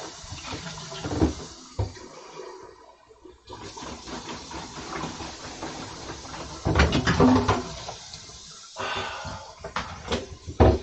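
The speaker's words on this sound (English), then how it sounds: "Rinse out first." Water from a running tap rinses something out, a close, splashing gush that shifts and patters as the flow is moved, with short breaks between bursts.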